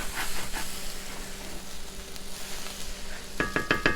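Fried rice sizzles in a cast iron pan, a steady close hiss throughout with a few scraping stirs and clicks of the utensil near the end.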